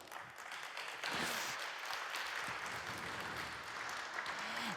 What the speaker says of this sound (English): Let's welcome them with a good round of applause.